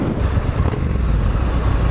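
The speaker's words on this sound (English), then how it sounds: "That's the stock exhaust." A Triumph Street Scrambler motorcycle running on its stock exhaust, a steady low engine drone heard up close while riding, mixed with some wind rush and no talking.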